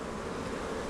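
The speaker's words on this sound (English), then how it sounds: "Full of bees." Honey bees buzzing around almond pollination hives, a dense, steady, close hum from many insects at once.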